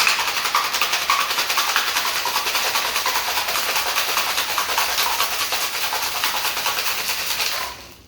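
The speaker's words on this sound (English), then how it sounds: "I'm going to shake it with ice first, and then I'm going to dry shake it second" A whisky sour with egg white shaken hard with ice in a cocktail shaker, a loud, steady rattling churn of ice that runs close and continuous for about seven seconds, then stops abruptly.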